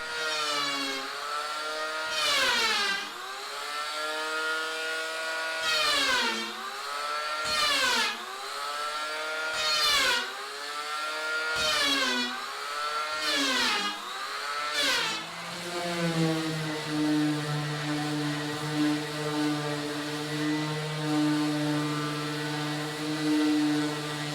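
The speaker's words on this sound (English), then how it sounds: "I'm going to use a power plane" Power planer cutting along a plywood boat edge, several loud passes with repeated drops and rises in motor pitch as it bites into the wood, then a steady whine as it spins freely.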